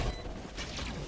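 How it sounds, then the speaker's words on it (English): A flashbang detonates in a Valorant match, a short, dense burst of noisy crackle that fills the whole moment with no voices. "Flashbang."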